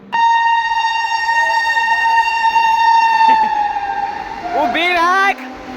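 A loud, sustained train horn blares steadily for several seconds, then a brief squealing, warbling burst follows as the rail noise cuts off.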